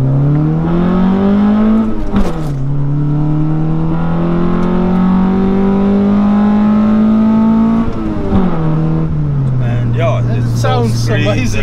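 A Honda Prelude with an H22 VTEC engine revs hard while driving, its loud engine note climbing steadily through the gears with brief dips at shifts, close and continuous, with a voice speaking over it.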